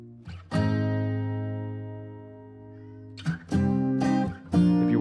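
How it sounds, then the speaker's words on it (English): A cat meows during a song recording, its brief cries heard among sustained distorted musical tones and louder chords, close and fairly prominent. "Oh, right here you hear one of the Carmine's cats."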